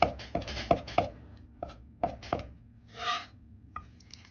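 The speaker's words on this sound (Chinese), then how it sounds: "香菜1颗，清洗干净后和葱叶改刀切碎" A knife chops coriander and scallion leaves on a board in a series of sharp, close taps, several in quick succession, then a few scattered strikes and a soft scraping sweep.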